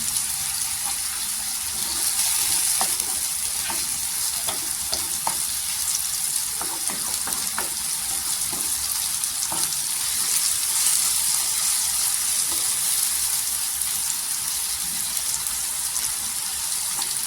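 Tomatoes with salt fry in a pan, giving a steady, continuous sizzle for about seventeen seconds. Occasional clinks and scrapes of stirring come through, close by, with no talking.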